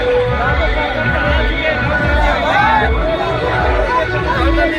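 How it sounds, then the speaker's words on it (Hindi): Large crowd gathered at Gandhi Maidan, Patna, a constant dense babble of many voices and murmuring all around, loud and unbroken, with someone talking over it. "चारों तरफ भीड़ देखिए आप, भीड़ जमा हुई है"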